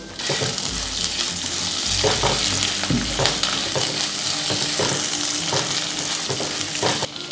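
Chopped onion frying in oil in a pan for jowar upma, a steady close sizzle with scattered crackles and occasional scraping stirs, with no talk.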